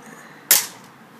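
An M70 Varmint BB gun fires once at a target, a single sharp snapping crack standing alone in a quiet background and decaying quickly.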